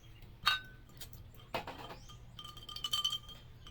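Glasses clink in a toast at a celebration, a few short bright chinks spread across a quiet room with faint background sound.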